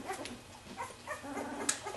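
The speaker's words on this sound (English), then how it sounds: "She's growling." A dog growls softly at close range, its low rumble broken by a few whimpering yips and one sharp squeak near the end, with no one talking.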